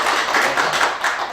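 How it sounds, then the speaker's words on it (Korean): A short burst of audience applause at a Korean talk on speaking with humour, dense clapping from a room full of people, loud and steady with no voices over it. "박수 보내주실 거죠?"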